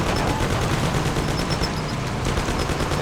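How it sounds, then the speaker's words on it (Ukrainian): Gunfire in the video game Mafia: The City of Lost Heaven, a dense continuous rattle of rapid shots throughout, loud and close, with engine-like hum beneath and no speech. "Починати їх зараз стріляти."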